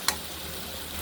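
Chunks of pumpkin fry in a pan with mustard seeds and green chili, giving a steady soft sizzle with one brief sharp tick near the start.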